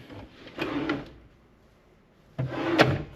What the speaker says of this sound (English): Beneath that are drawers for storage